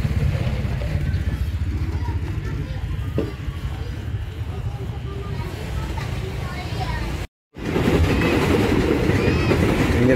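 Train rolling along railway tracks beside a slum drainage canal in Ciputat, a loud continuous rumble with steady rail noise throughout, briefly cut off near the end before resuming, with faint talk mixed in.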